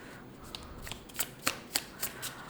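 A Rainbow Brain Skull tarot and oracle card deck shuffled by hand: several soft, sharp riffling snaps in a loose rhythm, close and quiet, with no speech.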